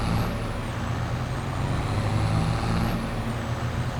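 Lizard V340 flatbed truck with a 340 horsepower engine driving in Farming Simulator 22, giving a steady, loud engine drone with a constant high whine over it, no talk.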